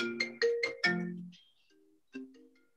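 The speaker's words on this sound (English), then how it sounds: "Sorry, there was a phone call." A telephone rings during a philatelic society meeting, a bright electronic ringtone with several rapid melodic tones, then a pause and a shorter second burst, clear and fairly close in a quiet room.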